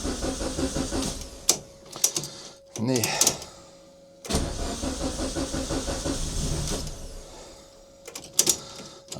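A Suzuki Swift engine on a dyno cranks in several stuttering attempts before catching and running in a steady idle, with a brief spoken word near the start.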